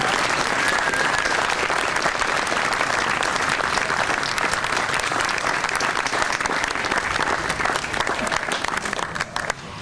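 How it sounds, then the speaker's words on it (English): An outdoor audience at a city band concert applauds, dense and continuous clapping for about ten seconds that thins slightly at the end, with no speech over it. "let's give him a round of applause"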